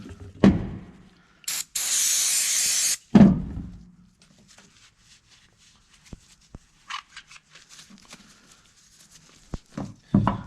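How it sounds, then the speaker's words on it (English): Brake parts cleaner sprayed onto the caliper slides of a 2016 Ram 1500 during a front brake job: a sharp hiss lasting about a second and a half, set between clanks of metal parts, then quieter handling noises and small taps. "get more brake parts cleaner"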